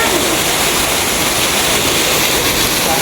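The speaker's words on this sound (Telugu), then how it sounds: "కొండల మధ్య నుంచి వస్తున్న ఒక చిన్న వాటర్ ఫాల్." A small waterfall tumbling down between hills at Chakra Teertham in Tirumala gives a steady, loud rush of falling water that holds unchanged from start to finish, with no voices over it.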